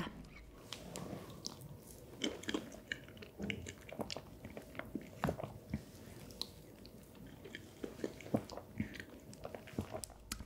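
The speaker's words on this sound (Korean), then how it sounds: "티라미수 너무 먹어보고 싶었으니까 티라미수부터 먹어야지." Someone eats tiramisu, an icebox-cake style dessert soaked in milk, with close, moist chewing and soft biting sounds repeating irregularly throughout, no talking.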